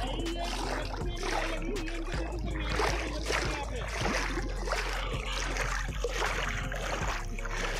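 Water splashes and swishes as a person wades into the Chenab River in winter, with irregular close splashes under steady flowing-water noise and someone talking throughout.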